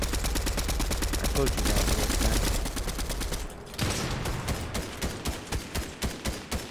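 Rapid automatic gunfire in Fortnite, loud and dense for several seconds and then easing into spaced bursts of single shots, with a player's voice talking briefly over it.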